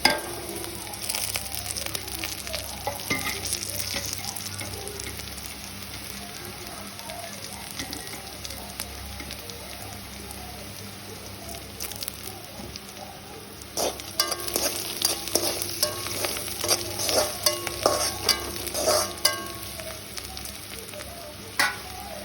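Onion and chopped dried red chillies frying in a pan, a close, steady sizzle that turns busier and more crackly partway through, with scraping stirring noises on top and no talk.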